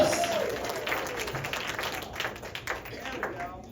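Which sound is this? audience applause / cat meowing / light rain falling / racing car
audience applause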